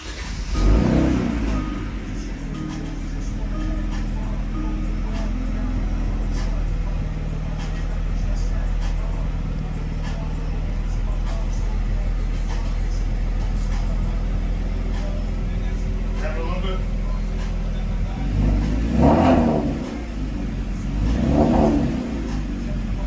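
A Kia Stinger starts up after an HKS spark plug install, its engine settling into a steady idle and then giving two sharp revs near the end; people talk briefly over the engine.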